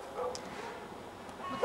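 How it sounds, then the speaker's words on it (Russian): A dog barks during a training session, a few short close yips and woofs over faint background talk, with a louder bark right at the end. "Все, пусть она побольше полает."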